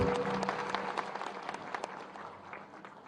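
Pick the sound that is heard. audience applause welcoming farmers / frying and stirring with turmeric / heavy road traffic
audience applause welcoming farmers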